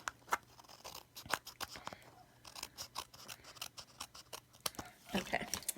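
Scissors trim paper for a handmade greeting card, a series of close, quiet snipping cuts in an irregular rhythm, with a busier burst of cutting near the end.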